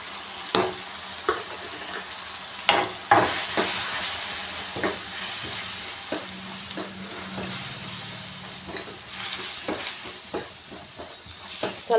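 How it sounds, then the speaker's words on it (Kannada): Sambar powder fries in a little oil in a pan while being stirred, a steady close sizzle broken by repeated scraping knocks of the spoon, with no talk. "ಸ್ವಲ್ಪ ಎಣ್ಣೆಲಿ ಈ ರೀತಿ ಫ್ರೈ ಮಾಡಿದ್ಮೇಲೆ"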